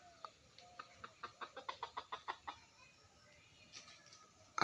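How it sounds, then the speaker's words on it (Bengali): A rooster and hen clucking nearby, a quick run of about a dozen rhythmic clucks fading out, then quiet with a brief louder sound at the end. "অসাধারণ একটা মোরগ, একটা মুরগি"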